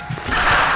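A quick mechanical weapon reload clicks and rattles in Resident Evil 6, a short metallic ratcheting burst up close with no talking.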